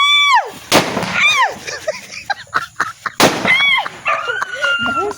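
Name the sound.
dog barking during New Year fireworks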